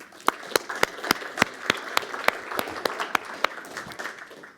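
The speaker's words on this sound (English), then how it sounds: "give a warm hand of applause for Mr." Audience applause at a hackathon event, a light, sparse round of clapping where a few sharp individual claps stand out in a loose rhythm over a softer patter, fading toward the end.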